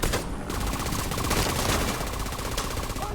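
A deployed turret in The Division 2 fires a continuous rapid burst, dense automatic gunfire rattling steadily and loudly for the whole stretch with barely a pause.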